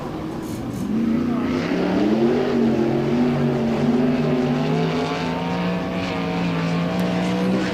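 A sprint race car comes up to speed through turns three and four on the Port Royal dirt oval, its engine a loud, steady high-pitched drone that climbs gradually, with no voices over it.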